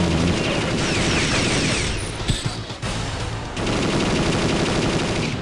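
Gunfire from the Perfect Dark video game, played with mouse and keyboard, pours out as loud, dense rapid automatic shooting with clanking mechanical rattles, dipping briefly in the middle before the barrage resumes.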